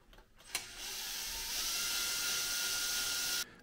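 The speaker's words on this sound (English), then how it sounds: "I'm going to drill a couple holes here, these little pilot holes." A small power drill whirs up with a sharp start and spins at a steady high pitch for about three seconds, drilling a pilot hole in aluminum, before cutting off abruptly.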